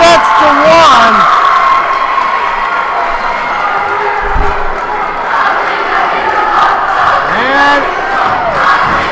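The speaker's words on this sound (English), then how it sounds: "the crowd goes crazy" Crowd cheering and shouting erupts after a high school girls' volleyball team wins the match three sets to one, a loud, sustained roar in a gym with shrill yells rising above it and a commentator's voice speaking over the noise.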